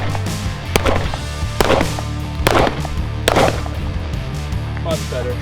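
A Walther PDP 4.5 steel frame pistol fires four sharp, loud shots at a steady, unhurried pace, each with a brief echoing tail.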